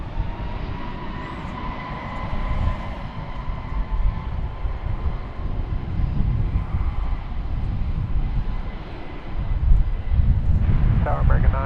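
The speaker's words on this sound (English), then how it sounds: "Looks like we have American Flight 395 rolling down 18 left." American Airlines jet rolling for takeoff on runway 18 left at DFW, a steady broad engine roar that swells louder toward the end, heard from a distance with voices talking over it.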